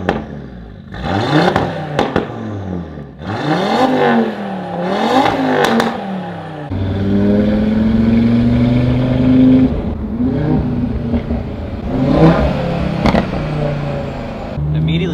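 An Audi RS3 with a 034 Motorsport exhaust, heard from outside, revs repeatedly with rising and falling engine pitch, then holds a sustained, loud droning growl with crackles, close by.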